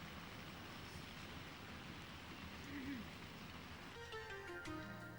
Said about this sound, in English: It's raining at Collingtree, but Campbell won't care.